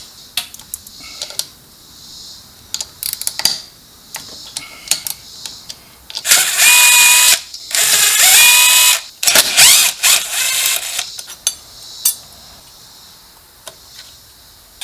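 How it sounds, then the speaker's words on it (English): Power tool and ratchet work on the clutch cover bolts of a 2014 Harley Ultra Limited motorcycle: loud whirring bursts of one to two seconds separated by sharp clicks and clacks, close and alone. "First, we're going to loosen up these 6 bolts, take that off, and then pull all the clutch out and replace it."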